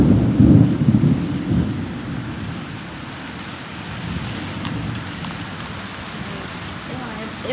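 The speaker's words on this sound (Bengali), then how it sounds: "বিদ্যুৎ চমকাচ্ছে ঝড় হচ্ছে এদিকে বৃষ্টি শুরু হলো" Thunder rumbles loudly at the start of a heavy rainstorm, then gives way to a steady wash of pouring rain heard through open windows on a hot night.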